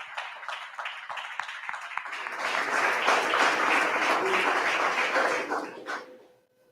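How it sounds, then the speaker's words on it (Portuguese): A church congregation at an evening doctrine service claps, starting with scattered rhythmic claps that grow into full, loud applause, then taper off with a faint tone lingering at the end. "Aplauda o Senhor."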